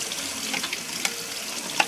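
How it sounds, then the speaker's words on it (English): Hot tap water runs steadily over a plastic smart slicer being rinsed in a sink, a continuous hissing splash with a couple of small clunks, fairly close and with no talking. "So you just rinse it all down with some really hot water"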